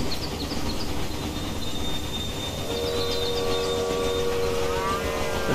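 Game trains arriving at New York station in Railway Empire, with steady rumbling rail noise throughout, a thin high squeal of wheels partway through, and sustained horn-like tones near the end.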